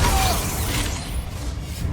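Descendo slam spell cast in the Hogwarts Legacy video game: a loud, rumbling impact with crashing, shattering debris and a brief whooshing streak, sustained and busy throughout.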